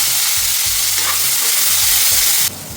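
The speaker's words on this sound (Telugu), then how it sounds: "పచ్చిమిరపకాయలు వేయించుకోవాలి." Onions and green chillies fry in hot oil with a loud, dense, steady sizzle heard up close, broken by a few low stirring knocks, with no talking.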